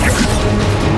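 Bombarda spell blast in Hogwarts Legacy, a brief loud smashing burst layered over busy game sounds.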